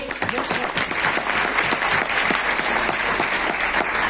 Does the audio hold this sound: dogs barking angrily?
no